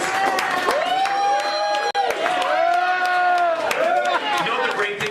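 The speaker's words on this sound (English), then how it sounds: "Let Erin hear you guys" A comedy club audience cheers and claps for a bar server, a loud continuous mix of whoops, applause and crowd noise with voices rising over it throughout.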